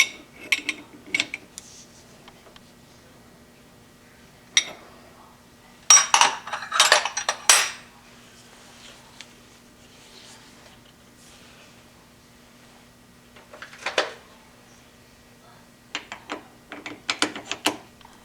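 Metal clinks and ratcheting clatter of a cheap Chinese metric wrench being fitted onto a nut on a South Bend 1307 lathe, coming in scattered short bursts with quiet gaps, close and moderately loud, with a low steady hum beneath.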